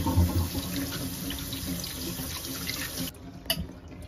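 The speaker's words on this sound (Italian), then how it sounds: "sciacquiamo, sciacquiamo finché l'acqua non uscirà nuovamente trasparente da sotto il colino" Tap water runs steadily into a sink while soaked lentils are rinsed in a colander, a continuous close splashing rush that stops abruptly near the end, leaving a few drips and a brief clatter.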